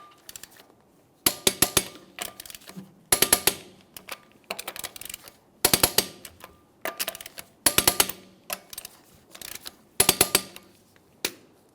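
A torque wrench tightens the lug nuts on a Jeep Wrangler wheel resting on the ground, giving a series of close, sharp ratcheting clicks in quick bursts with short pauses between them.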